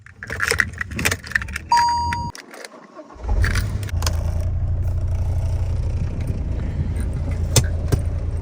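Car and office keys jangle up close in a short metallic burst, then a car engine starts and settles into a steady low idle that continues to the end.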